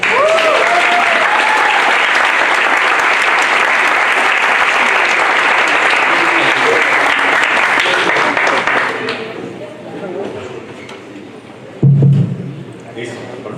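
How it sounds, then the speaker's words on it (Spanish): Strong, dense applause from an audience at a book presentation on pan de muerto in Puebla, holding steady for about nine seconds before fading out, followed by a thump and some quiet voices. "un aplauso antes"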